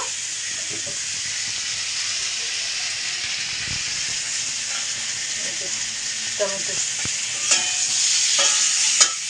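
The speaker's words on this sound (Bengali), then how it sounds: "এখানে আলু বেগুন ভাজা হচ্ছে" Potato and eggplant pieces fry in a pan with a continuous close sizzle, broken by scraping stirs and clinks of a spatula that grow more frequent near the end.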